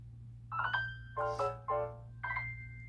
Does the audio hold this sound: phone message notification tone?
yes